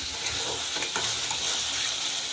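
Spiced potatoes for aloo dum sizzle steadily in a pan while being stirred, giving a continuous close frying hiss with soft scraping and no voices.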